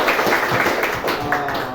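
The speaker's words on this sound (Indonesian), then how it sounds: "Oke, tepuk tangan dulu." Short burst of audience clapping at a school counselling session in a high school, a few uneven rounds of claps over a room murmur.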